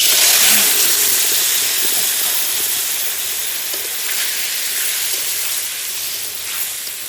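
Tomatoes hitting a hot pan with mustard oil, chili, bay leaf and five-spice, giving a loud, bright sizzle that starts strongest and settles into a steady hiss with faint stirring clicks.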